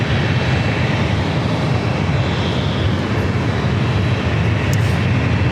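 Lufthansa Airbus A350-900 jet airliner, about a year old, at San Diego airport, giving a steady, loud, broadband engine roar that holds constant throughout with no talk.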